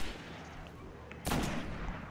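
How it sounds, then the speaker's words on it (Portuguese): A sniper rifle shot in the video game Destiny lands as one loud, sudden blast partway through, with a booming tail over steady game background noise. "Eu quero usar minha sniper pra ver a potência dela."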